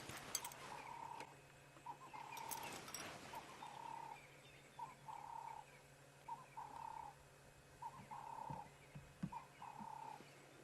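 A Cape turtle dove calls repeatedly from a high perch in the African bush, its short hoarse coos coming in a steady rhythmic series at moderate distance, with other faint bird chirps and outdoor ambience behind.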